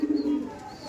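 A single pigeon coos briefly and close by inside a Kaldom and Laldom pigeon loft, a short low throaty call that fades into quiet background.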